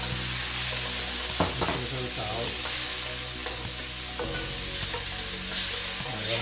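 Beef and broccoli stir-fry in a skillet as sauce mixture goes in, making a loud continuous sizzle broken by clattering stirs and scrapes of the spatula.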